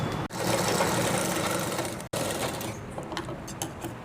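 A sewing machine stitching the shoulder seam of a men's kurta runs with a steady, close mechanical whir, pauses briefly, then continues more faintly with light ticks.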